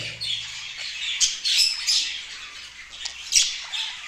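Harsh, shrill budgerigar squawks burst out repeatedly, close and loud, in short uneven clusters with brief pauses between them.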